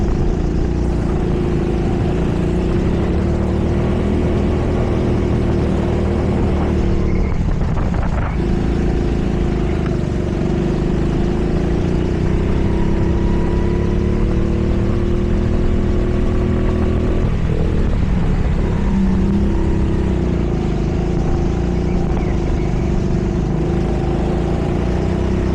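Rental go-kart engines drone steadily around the TeamSport Trafford Park indoor track, a loud continuous buzzing hum with pitch rising and dipping through corners and straights, and no talking.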